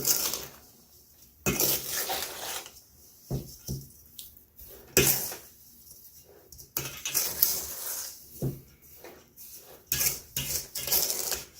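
Sugar stirred into peach wine must, with bursts of scraping and clinking from a spoon against the pot, coming in uneven strokes separated by short quiet gaps.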